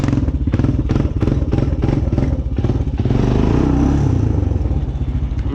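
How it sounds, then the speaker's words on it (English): A Honda Recon ATV revving in first gear, loud and close, with a pulsing exhaust note that rises into a sustained roar, plus clattering thumps and crackles from the engine. "I just like the way the exhaust sounds when I do that."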